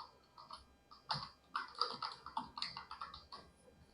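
Keys clatter in an irregular run of quick clicks on a computer keyboard, close and fairly quiet, with bursts of faster typing and short pauses between words.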